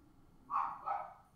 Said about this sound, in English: Dogs are barking, that's fun.